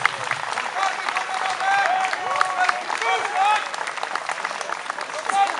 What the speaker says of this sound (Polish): Duże brawa, proszę dla tych dyrektorów.